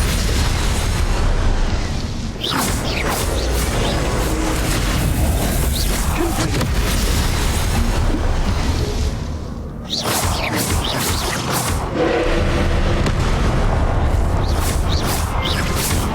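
Confringo fire-blast spell in Hogwarts Legacy during a boss fight on the trials quest, loud booming explosions bursting again and again in a dense, continuous barrage with a brief dip near the ten-second mark.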